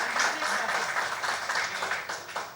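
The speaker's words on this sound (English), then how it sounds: "they deserve a big round of applause" An audience at a closing session claps together, a dense, steady patter of many hands that holds at an even level throughout.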